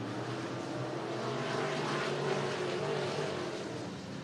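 Dirt track race cars race around Cottage Grove Speedway in Oregon, a blended engine roar heard from a distance that builds and swells steadily as the pack passes, with no talk.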